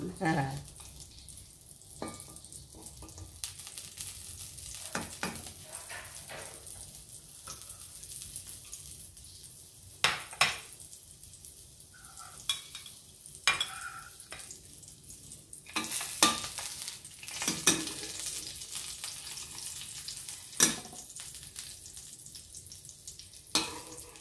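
Hotdog fries in a pan for a hotsilog breakfast, a steady low sizzle with scattered pops and utensil scrapes, close by, and a voice speaks at times over it.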